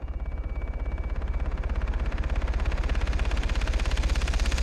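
Rapid automatic gunfire in the video game Far Cry 3, a continuous fast rhythmic burst of shots running the whole time, loud and close, with no talk over it.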